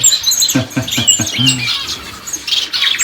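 Fledgling finch, a shaft-tail or red-headed African finch out of the nest, giving rapid, insistent squeaky begging calls to be fed, close and loud in a steady series of chirps.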